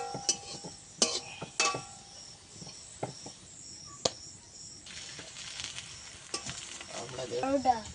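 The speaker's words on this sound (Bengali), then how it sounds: "প্রায় সব পরোটা আমার ভাজা হয়ে এসেছে।" Parathas fry in a pan, a quiet background sizzle broken by sharp spatula scrapes and clinks against the pan at irregular intervals, with a brief scratchy burst near the end and no speech.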